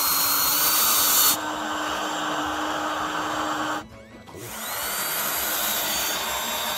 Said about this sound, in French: On peut ensuite venir mettre en place le contre-chevron et le visser.